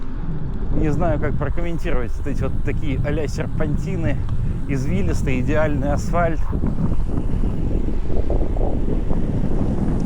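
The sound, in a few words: strong wind on the microphone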